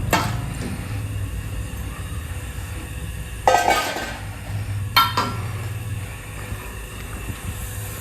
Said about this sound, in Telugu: ఇట్లా ఫ్రెష్ చికెన్ తీసుకొని కడిగేసుకొని దాంట్లో వేసుకోవాలి.